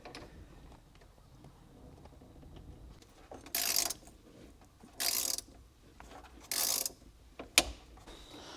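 A socket ratchet clicks in three short bursts, then a sharp tap, while tightening the battery hold-down on a BMW G20 330i in a quiet garage.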